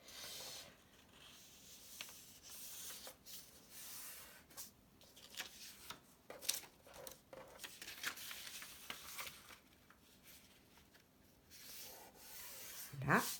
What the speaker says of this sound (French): Là, je marque mes plis